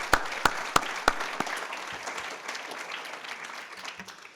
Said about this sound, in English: I would like to also give Robert a big round of applause for his amazing presentation.